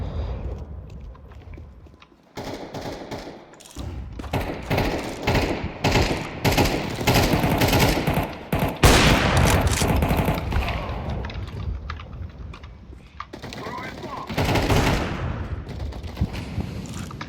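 Rapid automatic gunfire on the Dust2 map in Counter-Strike, loud bursts and chattering volleys coming in waves with brief lulls, dense and continuous over the whole stretch.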